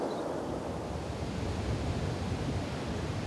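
Strong wind roars steadily across the East Sussex National golf course, a dense, unbroken rush of gusting air buffeting the microphone throughout, with no voices.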